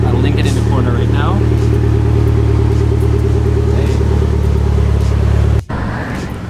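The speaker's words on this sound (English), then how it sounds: "The exhaust actually sounds really good." Car exhaust rumbling steadily while driving, a loud low drone from a modified exhaust close by, with a short cut near the end before the engine sound resumes.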